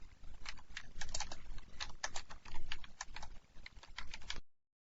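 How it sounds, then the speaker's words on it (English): Keys clatter on a computer keyboard as code is typed, a quick uneven run of close, soft clicks lasting about four seconds before cutting to silence, with no voice. "When you actually type some things in,"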